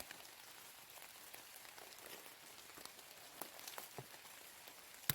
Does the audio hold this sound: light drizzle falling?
yes